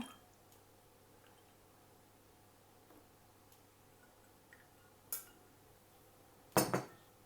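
Ice cubes drop into a glass for an iced dalgona coffee, giving a few bright clinks near the end after a long, quiet stretch.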